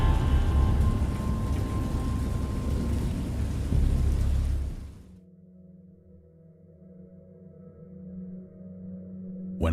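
Thunder and storm in the Lovecraft horror game Dagon: Little Glass Bottle, heavy rumbling rain and thunder roaring loud for about five seconds before cutting off to a quiet low drone.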